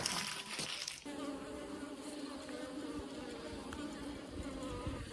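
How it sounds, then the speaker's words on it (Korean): A black-tailed hornet buzzes close by at a wooden beehive entrance, gnawing at it, a persistent hum with small scraping and rustling noises mixed in, no voices. "똑같은 말벌이 와서 이렇게 매일 갉아먹고 있더라고요"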